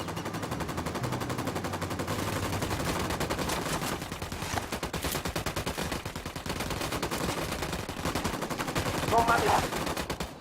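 Rapid automatic gunfire in a first-person shooter video game, a continuous dense rattle of shots lasting throughout, fairly quiet in the mix with faint game sounds underneath.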